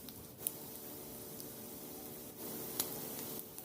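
Egg pieces for Egg 65 fry in hot oil in a pan, giving a soft, steady sizzle with occasional faint pops and crackles.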